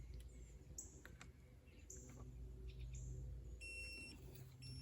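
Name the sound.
DOVOH laser level beeping when out of level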